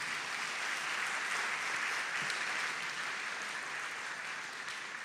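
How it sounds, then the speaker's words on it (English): Steady, even audience applause fills the whole stretch at a groundbreaking ceremony, a soft, continuous wash of many hands clapping, moderately distant and fading slightly toward the end. "Let us give them a round of applause"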